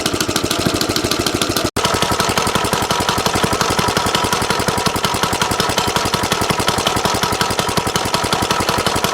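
A 1970 Rupp Scrambler minibike's small engine runs steadily up close, with a loud, rapid, even chugging beat that carries on alone apart from one brief break.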